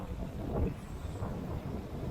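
Strong wind of 20-25 knots at sea, aboard a sailboat in heavy swell during an Atlantic crossing, roars steadily against the microphone, a broad rushing noise with low rumble and no voices.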